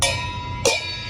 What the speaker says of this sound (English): These are just two really small China cymbals that you just...